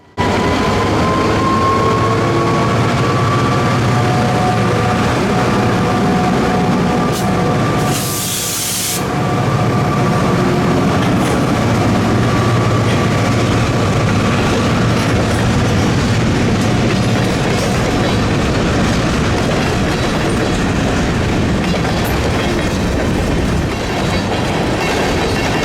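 Train on the CSS Kingsbury Branch pulling away after a crew inspection, a loud, steady, continuous rumble of wheels and cars with clickety-clack, a brief dip midway, no voices.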